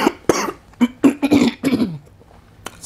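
Several harsh coughs in quick succession close to the listener, with throaty, rasping bursts and brief pauses between them.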